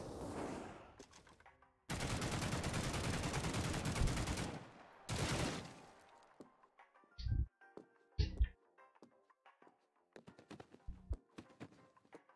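Gunfire in The Mean Greens Plastic Warfare on Xbox One: two loud sustained automatic bursts, then scattered single shots and thuds, sharp and close.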